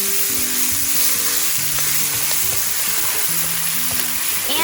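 Jalapenos hit a hot pan with a spoonful of chili and crackle into a steady, loud sizzle that hisses on throughout, with a few sharper spits and pops.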